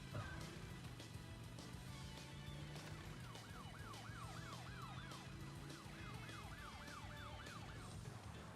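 A police car siren wails in the video game Crash Bandicoot 2 with a rapid warbling rise and fall in two bursts, moderately loud over busy game music and engine noise.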